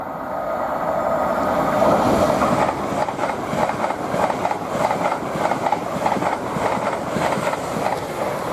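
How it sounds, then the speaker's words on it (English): An LNER Azuma passes at speed at Potters Bar on the East Coast Main Line, a loud, steady rush of wheels with rhythmic clatter over the rails, close and with no voices over it. "we find another Azuma which is working the opposite service"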